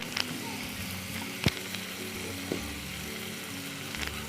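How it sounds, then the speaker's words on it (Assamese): Food half-fried in a pan on a gas stove in a home kitchen, a steady low sizzle and crackle running throughout with a few small clicks and stirring knocks, no talking. "এনেকৈ মই অলপ আধা ভজা কৰি ল'ম এইখিনি আধা ভজা হৈ গৈছে"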